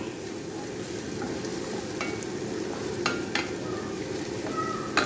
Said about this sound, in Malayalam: നമ്മുടെ സവാള ഏതാണ്ട് വഴന്ന് വന്നിട്ടുണ്ട് ഇനി നമുക്ക് ചിക്കൻ ചേർത്ത് കൊടുക്കാം